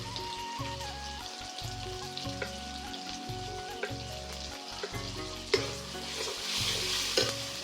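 Ground turmeric and chili powder are stirred into softened tomato frying in a pan for chana masala, with continuous sizzling and repeated rhythmic scraping strokes, and a louder hiss toward the end.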